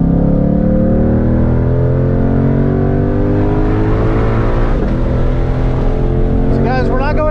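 A 2020 Ford Mustang Shelby GT500 drives on a race track, its engine a loud, steady, close drone that climbs slowly in pitch and runs the whole time, with a brief squeal near the end.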